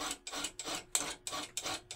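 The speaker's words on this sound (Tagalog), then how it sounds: "Kinikikil." A metal file rasps back and forth by hand on a fork, about seven steady strokes in quick rhythm, close and dry with no talking.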